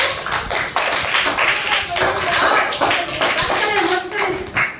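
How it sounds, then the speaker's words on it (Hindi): Children in a primary school classroom clap for two classmates after a teacher-student competition, brisk uneven hand claps close by with a teacher's voice talking over them throughout. "इसलिए फिर से दोनों लोग के लिए तालियां बजाइए"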